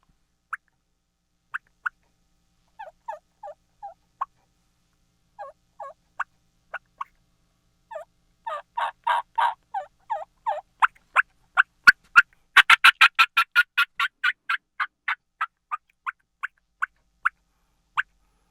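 A turkey call worked by a person to imitate the fly-down cackle of a hen leaving the roost: sparse clucks that speed into a dense rapid burst of cackling, then slow back to spaced notes, loud and alone.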